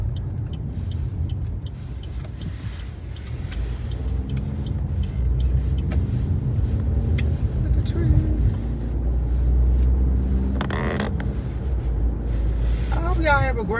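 Car driving close behind on a road, heard from inside a moving vehicle as a steady low engine and road rumble with a passing whoosh, while a person talks over it.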